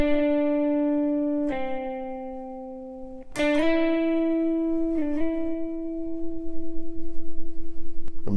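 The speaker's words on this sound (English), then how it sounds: "So let's play this lick real slow so you can get it under your fingers." A guitar plays a slow pentatonic lick, alone and clear. Sustained plucked notes glide through slides and a hammer-on, then end on a held note with wavering vibrato.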